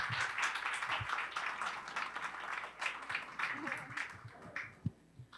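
A standing audience at a judiciary memory-week closing ceremony applauds a women's vocal group, steady moderate clapping with occasional thuds and a voice speaking over it.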